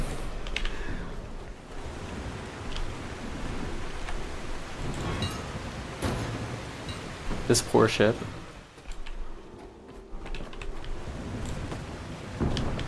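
Constant rain hiss with low rumbling thunder rolling underneath in the video game The Last Caretaker, a sharper crack near the middle, and a voice speaking briefly over it.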